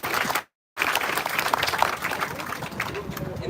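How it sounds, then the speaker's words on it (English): An audience at a Vietnam Veterans Day event applauds veteran service volunteers, a full burst of clapping that cuts out for a moment then carries on steadily, with some voices mixed in. "Can we please give a round of applause to these dedicated services?"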